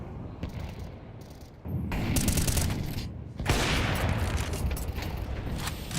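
Scout sniper rifle fire during a Counter-Strike match at an esports tournament, sharp gunshots followed by a dense burst of overlapping gunfire and mechanical clatter, loud and close.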